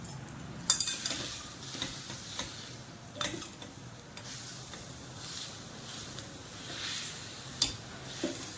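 Jaggery is stirred into a modak filling mixture in a pan with soft scraping and sizzling. Light clinks of a utensil on the pan rim come at irregular moments, close and fairly quiet.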